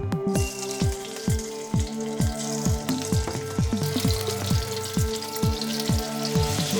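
Pork belly pieces sizzle and fry steadily in a hot pan, a close, crackling hiss punctuated by a run of sharp, evenly spaced pops and spits, with no talking.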